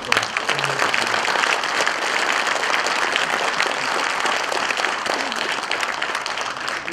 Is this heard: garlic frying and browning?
no